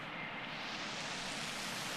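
Steady rain falls in a video game as the weather turns, a constant even hiss with no talk over it.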